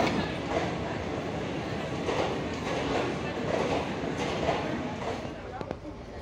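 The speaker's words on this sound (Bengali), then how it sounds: "এখন আমাদের ট্রেন গণদেবতা এক্সপ্রেস বর্ধমান স্টেশনে অ্যারাইভ করছে 5 নম্বর প্ল্যাটফর্মে" Ganadevta Express pulling into platform 5 at Bardhaman station, a steady loud rumble of rolling wheels and rail clatter throughout, with faint voices mixed into the station din.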